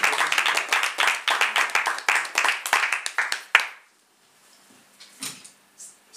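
Audience members at a slam poetry open-mic night clap in a loose, fairly close burst of distinct hand claps for about three and a half seconds, then it stops abruptly, leaving near silence with a few faint small sounds.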